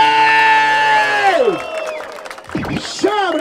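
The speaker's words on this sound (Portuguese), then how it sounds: "uma salva de palmas pra todo mundo que tá presente" Crowd at a Brazilian street rap battle in Barueri, São Paulo, cheers and whoops with some clapping, loud voices rising and falling over a few seconds.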